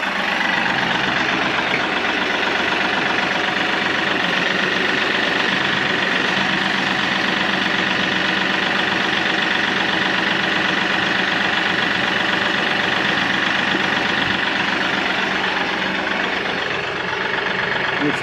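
A tractor engine idles steadily and loudly nearby while a hydraulic wood splitter mounted on it is tested, a constant low rumble with a droning hum and no breaks.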